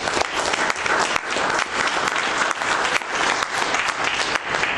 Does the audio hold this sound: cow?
no